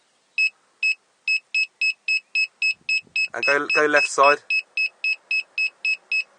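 Reversing parking sensor on a Chrysler Grand Voyager beeping in a steady, rapid series of short electronic tones, with a person speaking briefly over the middle of the sequence.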